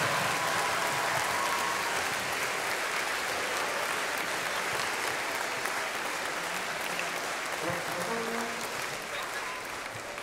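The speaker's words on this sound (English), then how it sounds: "Can we have one more massive round of applause for the boys and the girls and all of the staff?" A school audience gives sustained, dense applause after a carol concert, a broad wash of many hands clapping that holds steady and tapers slightly at the end.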